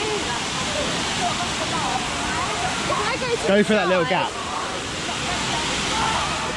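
Waterfall at the Discovery Cove lazy river, a steady close roar of falling water running throughout, with people talking over it and a brief louder splash of voices midway.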